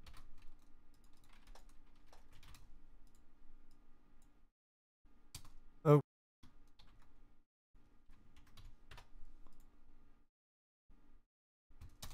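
Computer keyboard shortcuts being typed, quiet scattered key clicks in short bursts with gaps, one sharper louder click in the middle, close by in a quiet room.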